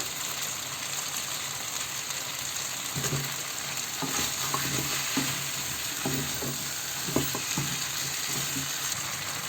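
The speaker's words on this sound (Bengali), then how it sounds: "মশলার সাথে এটাকে একটু ভেজে নেব এর মধ্যে দিয়ে দেব আলু" Potatoes frying with spices in a pan in a home kitchen, a steady oily sizzle with scraping stirring strokes that come in bursts, close and alone without talk.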